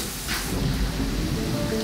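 Thunderstorm with heavy rain near Siguer in the Pyrenees, a dense steady downpour with a low rolling rumble underneath, loud and continuous with no voices.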